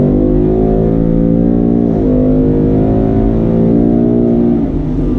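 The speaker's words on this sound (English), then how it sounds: "I'm going to be quiet and step on the gas pedal." A 2019 Ford Mustang GT with the Performance Pack accelerating hard, its V8 engine roaring loud and close with a steadily rising drone, briefly dipping at a gear change before climbing again.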